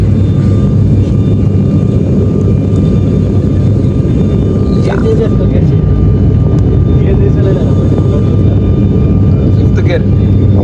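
Airplane engine drone heard from inside the passenger cabin in flight, a loud, steady low roar with faint tonal hums, continuous throughout, with a few brief clicks and voices murmuring underneath.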